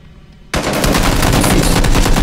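Sudden loud burst of rapid automatic gunfire in a shooter video game, a continuous rattling stream of shots erupting after a quiet moment and sustained to the end.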